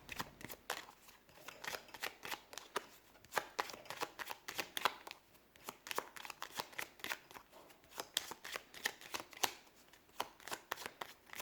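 Tarot cards being shuffled by hand, with rapid, close, crisp riffling and slapping of card stock in a steady, continuous rhythm, quiet and with no talk.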